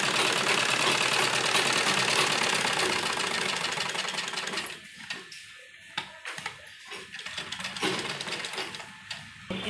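A sewing machine stitches school uniform fabric with a dense, steady mechanical whir for the first few seconds. It then drops to quieter, uneven ticking and clattering, with no speech.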